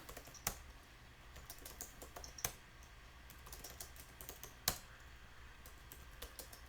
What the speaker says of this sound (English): I'm going to go ahead and type out the categories for you guys.